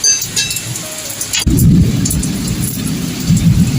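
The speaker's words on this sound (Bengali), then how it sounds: "এই যে বৃষ্টি পড়ছে" Rain pours steadily with a deep rumble of thunder rolling in, loud and close, the heavy low roar continuing under the constant patter.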